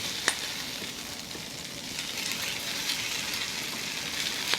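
Shrimp stir-fried noodles sizzle steadily in a pan over a weak gas flame, with a continuous hissing fry broken by a few sharp clicks and scrapes of stirring, close and alone.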